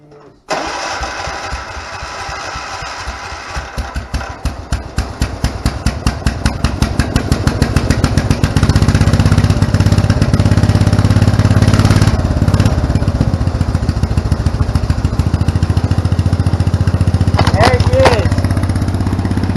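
A small engine with a rotted-out original muffler sputters to life and settles into a loud, steady, raspy running drone that continues throughout, up close, with a person talking over it.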